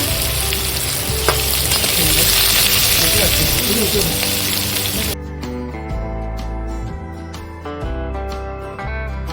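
Onions sizzle and crackle steadily in a hot pan for several seconds, then the frying fades as clanking stirring and background sounds take over.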